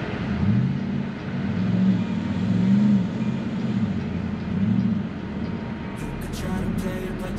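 A lifted Toyota Tacoma grinds along an off-road course as a steady, droning engine rumble with rhythmic low surges as it climbs and rolls over terrain, close and continuous throughout.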